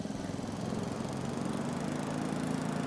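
Small John Deere 56 lawnmower engine in a video game, starting with a few sputters, then settling into a steady, close, buzzing run that continues to the end.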